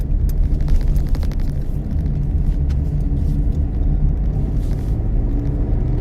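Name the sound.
car engine running while driving, gear change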